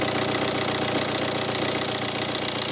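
A diesel engine idles smoothly with a steady, even mechanical chugging, close and continuous.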